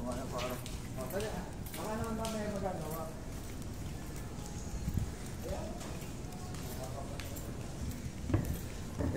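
Horse hooves clip-clop on pavement outside a food court area in Lipa City, Batangas, a steady irregular clatter under a noisy crowd with people talking nearby.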